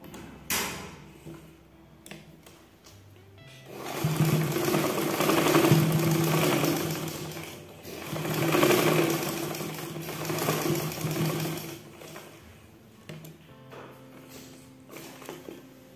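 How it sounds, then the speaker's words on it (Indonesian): A sewing machine stitches the lining of a woman's blouse, running in two long steady whirring bursts with a short pause between, then a few soft mechanical clicks as it stops. "lalu untuk lapisan belakang ini kita balik kayak gini, lalu kita jahit sesuai"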